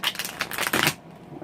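A deck of Santa Muerte tarot cards is shuffled in a brief flurry of soft, rapid riffling and slapping, close and quiet, stopping abruptly after about a second.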